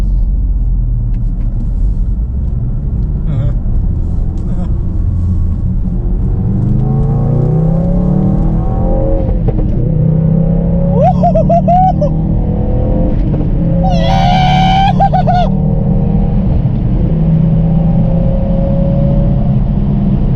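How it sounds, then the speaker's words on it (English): A car engine said to have a rattling exhaust valve runs with a steady, loud low rumble throughout, joined midway by a few brief higher-pitched squeals. "I think something is rattling and it's concerning me."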